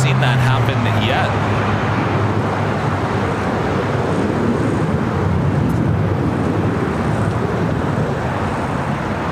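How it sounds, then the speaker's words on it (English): A Hawaiian Airlines Boeing Dreamliner taxis toward a south-side runway for takeoff at LAX, its steady jet engine roar blending with a broad wash of airport and vehicle rumble, with a low whine fading early on. "we got the Hawaiian Dreamliner. Flight 3 heading to Honolulu, heading to the south side for a takeoff."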